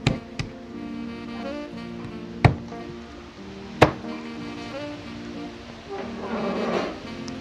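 Knife cutting the neck off a raw chicken: three sharp, separate chopping knocks spaced over several seconds, close to the microphone, between quieter handling sounds.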